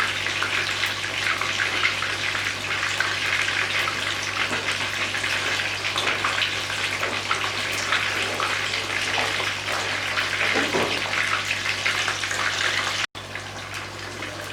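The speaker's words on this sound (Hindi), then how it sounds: "अब दूसरी साइड से भी हम इसको तकरीबन 2 मिनट तक फ्राई होने देंगे।" Masala rohu fish fries in a pan with a steady, loud, continuous sizzle and crackle, unbroken for the whole stretch apart from one brief cut near the end.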